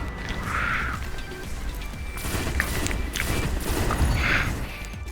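Pulsar MSM pulse rifle in Destiny firing three-round bursts at long range, with repeated sharp crackling shots and impacts over a busy rumbling battle background.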